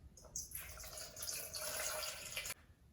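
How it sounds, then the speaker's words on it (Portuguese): Water pours in a single faint, close stream for bread dough, about two seconds of soft splashing that stops abruptly. "Vou começar com a água, 400 gramas."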